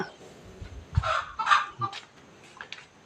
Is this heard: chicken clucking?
yes